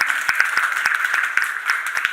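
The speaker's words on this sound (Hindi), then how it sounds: "तालियों के साथ हम स्वागत करते हैं।" Audience at a Rajyoga meditation program for special children clapping to welcome a guest, scattered individual hand claps over a steady tonal hum rather than a full ovation.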